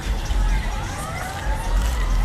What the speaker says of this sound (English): looks like we do have a fire department siren over here